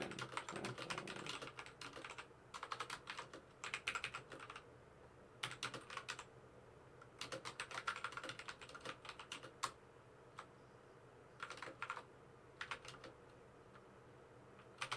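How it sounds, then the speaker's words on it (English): Typing on a computer keyboard comes in quick bursts of crisp clicking keystrokes, separated by short pauses, close and fairly quiet with no one speaking. "That keyboard sounds orgasmic."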